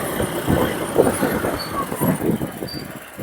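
A vehicle engine, running after its starter coil is replaced, is revved close by, a rough, throbbing roar that rises and falls in uneven pulses.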